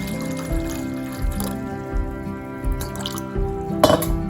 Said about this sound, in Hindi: अब एक बर्तन में हम लोग पानी डाल देंगे, पानी उबालने के लिए रखना है।